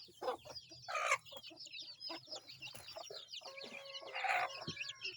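Chickens clucking close by in short, irregular bursts, with occasional louder squawks among the hens.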